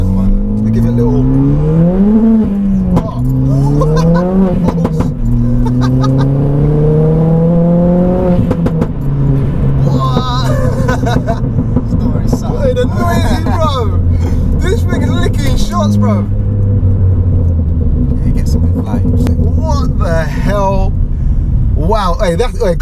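Loud 320bhp Ford Fiesta ST with a stripped interior accelerating hard, engine pitch climbing and dropping through repeated gear pulls, heard close from inside the cabin with rattles and roar filling the space.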